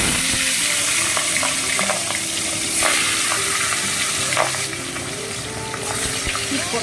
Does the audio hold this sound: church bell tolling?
no